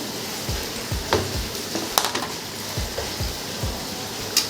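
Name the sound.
frying raw papaya paste and onions in a pan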